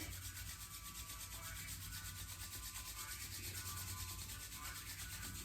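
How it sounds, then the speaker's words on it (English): Hands rubbing together to build heat during a yoga class, a continuous soft, steady rubbing and swishing, close and quiet with no talk over it. "just rub your hands together, creating heat"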